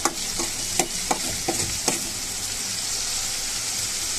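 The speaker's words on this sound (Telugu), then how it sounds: "పచ్చి వాసన రాకూడదు కాబట్టి మనం బాగా బ్రౌన్ కలర్ వచ్చిన దాకా వేపుకుందాం" Fish roe from a pond fish sizzles steadily in a frying pan, browning, with a handful of sharp scrape-and-tap stirring hits early on over a continuous bright crackle.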